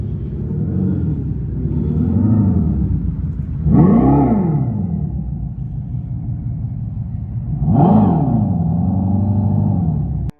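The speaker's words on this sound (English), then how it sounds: "This is the Fratzonic Chambered Exhaust, the most controversial piece of automotive engineering in decades." A Dodge electric muscle car's Fratzonic Chambered Exhaust booms loud and close, a steady synthetic engine roar rising in two sharp revving swells over about ten seconds.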